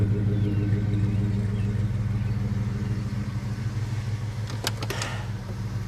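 A 1968 Ford with a 390 cubic-inch two-barrel regular-fuel V8 of lower compression idles with a steady, smooth low rumble, with a brief click or rattle near the end.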